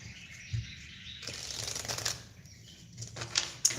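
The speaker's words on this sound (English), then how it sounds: "Just gonna give these cards a big shuffle." Deck of tarot-style reading cards being riffled and shuffled by hand, a close, papery flutter of several bursts and soft snaps running through the whole stretch with no talk.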